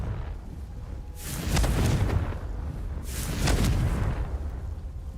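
Two booming blasts from the Confringo spell in Hogwarts Legacy, spaced about two seconds apart over a steady ambient rumble, each swelling and fading with a fiery, crackling tail.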